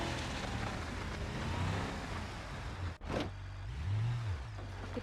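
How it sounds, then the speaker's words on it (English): A car engine revs in a driving video game, with a steady engine drone rising and falling in pitch, a short break midway, then a rising rev swell toward the end. "Rev it again."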